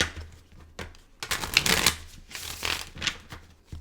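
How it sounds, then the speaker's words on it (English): Tarot cards being shuffled by hand, a series of quick papery riffles and flutters, close and fairly loud, with short gaps between bursts. "Last shuffle for Gemini."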